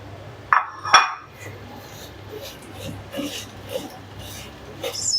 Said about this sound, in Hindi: अब हम इसमें अपनी सेवइयाँ ऐड करेंगे।